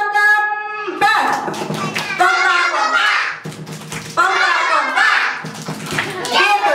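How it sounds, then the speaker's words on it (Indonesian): At a children's fourth birthday party, a group claps in a steady rhythm, mixed with children's voices and an adult talking over the clapping throughout. "Tepukan kembes"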